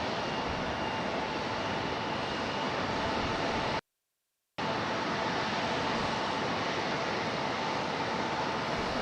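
A JetBlue airliner's jet engines roar steadily at Raleigh-Durham International Airport, a loud, continuous broadband rumble that drops out briefly midway and then resumes at the same level.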